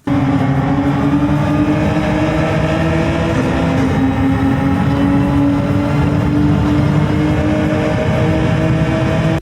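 A racing car in a racing game accelerates at full power, its engine a loud, steady, high-revving drone that holds without a break from start to finish, with no voices.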